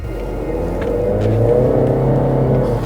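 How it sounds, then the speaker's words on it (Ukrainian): A 2017 Honda Civic 1.5 Turbo hatchback with a tuned exhaust revs with a deep, throaty exhaust drone, heard from inside the cabin, loud and steady throughout with no talking. "налаштований вихлоп, у всякому випадку в салоні його чутно, ну прям дуже сильно"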